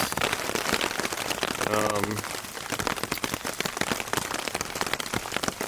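Steady rain patters densely on a tent close by during a storm while camping, a constant crackling wash, with a brief low voice murmuring partway through.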